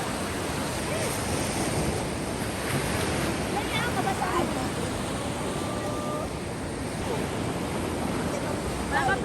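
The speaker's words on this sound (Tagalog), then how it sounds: "Maalon na. O, lalapit na naman." Rough sea waves roll and crash on the shore in a continuous loud roar, with wind buffeting the microphone. A faint voice is briefly heard beneath the surf.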